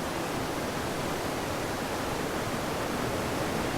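Water pours steadily beneath a waterfall, a dense, even rush of falling water that stays loud and unbroken throughout, with no voices.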